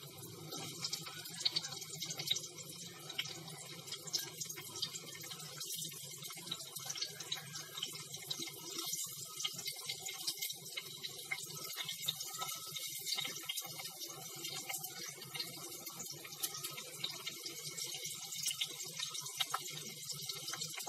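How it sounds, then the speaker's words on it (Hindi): Onions sizzle in hot oil in a home kitchen while a chickpea curry is being cooked, giving a faint, continuous crackling hiss with no voices. "तो इतने में मेरा तेल भी गर्म हो गया है, मैं अब ये प्याज डाल रही हूँ इसमें।"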